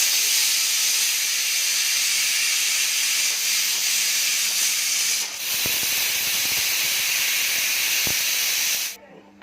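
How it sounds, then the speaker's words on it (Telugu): A pressure cooker whistling on a medium flame while goat trotters (mutton paya) cook, a loud, steady high hiss of escaping steam held for about nine seconds before cutting off abruptly. "ఇలా ఒక 5-6 విజిల్ వచ్చిన తర్వాత స్టవ్ అయితే ఆఫ్ చేసేసుకోండి"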